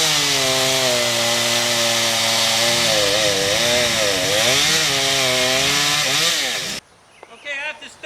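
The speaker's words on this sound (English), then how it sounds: "I'm going to have to use the chainsaw" Chainsaw cutting into tree wood during restoration pruning, a loud close engine whine rising and dipping in pitch as the chain bites, running steadily for nearly seven seconds before cutting off abruptly, followed by faint rustling.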